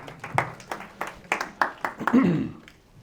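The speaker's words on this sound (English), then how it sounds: "Give yourself a little applause." Scattered hand claps from a small seminar audience at a real estate coaching event, a handful of sharp separate claps over about three seconds, with a voice talking underneath.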